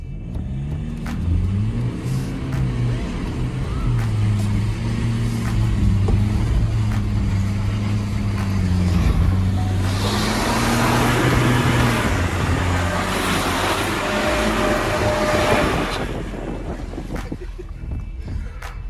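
A 2022 Ford Ranger Wildtrak with traction control off skids across a flat field, its engine droning and revving while tyres scrub and a louder burst of grinding, rushing noise builds midway before fading.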